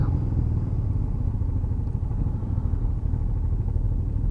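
A 650 motorcycle engine runs steadily and loud up close, a continuous low rumbling throb with no pauses and no voices over it.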